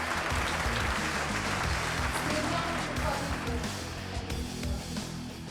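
Audience applause at the Team Gresini Racing MotoGP 2024 team launch, a continuous wash of clapping over a low, busy rumble of music or room noise, fairly quiet and distant.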